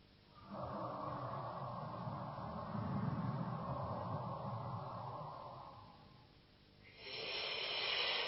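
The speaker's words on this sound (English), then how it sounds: "Now let's breathe together a few deep breaths from the abdomen." Slow, deep abdominal breathing up close: a long, full inhale lasting several seconds, tapering off, then a second breath beginning toward the end, steady and airy with no voices.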